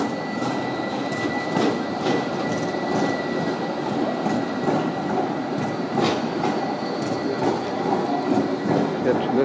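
A Bielefeld Stadtbahn tram on line 3 rolls past, with a steady rumble and a regular clickety-clack of wheels over rail joints, close and continuous, along with a faint voice.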